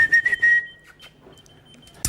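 A short, high-pitched dog whistle blast, steady in tone and close by, followed by quiet rustling and a sharp click at the end.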